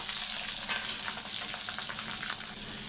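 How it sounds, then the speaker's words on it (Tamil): Curry leaves and broken green chillies fry in hot oil, giving a steady, close sizzle with crackling and spitting that holds unbroken throughout. "கருவேப்பிலை ரெண்டு பச்சை மிளகாய் நல்லா பொரியட்டும்"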